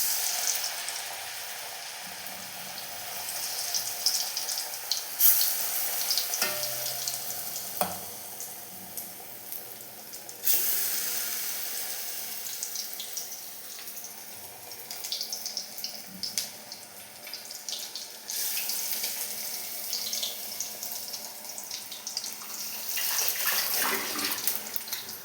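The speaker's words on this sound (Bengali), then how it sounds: "আবার ওই তেলে বড়া দিয়ে দিই, আবার আলুর বড়া ছেড়ে দিই" Potato fritters (aloo bora) frying in hot oil in a home kitchen, giving a steady, close hiss and crackle of sizzling batter with occasional louder spatters and clinks, and no one speaking.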